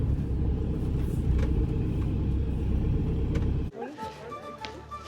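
A car engine idles with a steady low rumble while parking at the Cliffs of Moher visitor area, then cuts off abruptly, leaving quieter ambient sounds.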